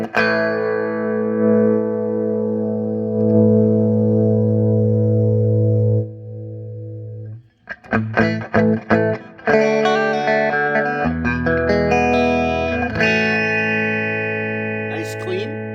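An electric guitar rings out through a Pignose G60RV amp with a clean tone at low volume: a long sustained chord, then a series of plucked notes and chords.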